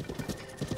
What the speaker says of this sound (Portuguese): Aqui está nosso cavalo caramelo